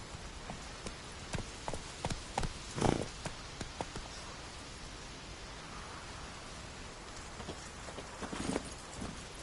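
Horse hooves clop along steadily in The Witcher 3: Wild Hunt on PS5, a string of evenly spaced hoofbeats at a moderate distance, partly masked by a hissing, rain-like wash of background noise.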